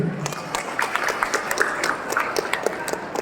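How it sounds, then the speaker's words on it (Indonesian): Audience applause at a formal event in Indonesia: a short burst of dense, close clapping with many hands, with a voice briefly audible at the start. "beri tepukan dan penghargaan untuk kita yang hadir di tempat ini"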